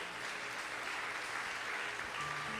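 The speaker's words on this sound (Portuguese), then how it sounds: "Aplaude ao Senhor." A church congregation claps during a sermon, a quiet, distant, steady patter of many hands under a faint musical hum in a large worship hall.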